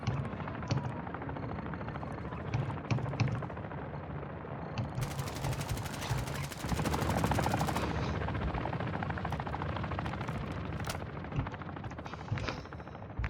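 Helicopter rotor noise and bursts of machine gun fire from the DMZ video game form a dense, continuous roar that swells into a louder stretch midway, with gunfire crackling throughout.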